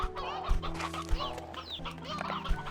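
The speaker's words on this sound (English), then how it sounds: "I definitely have too much of a chicken problem." Chickens in the video game Slime Rancher 2 cluck and chatter close by, with overlapping calls and a few sharp clicky thumps over a faint background hum.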